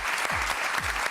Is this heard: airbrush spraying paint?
no